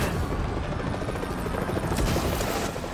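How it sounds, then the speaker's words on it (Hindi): A helicopter in the Marvel's Spider-Man video game drones with loud, close rotor thumping that fills the whole short stretch, mixed with dense game effects. "भाई पूरा का पूरा हेलीकॉप्टर रोकने वाले हैं।"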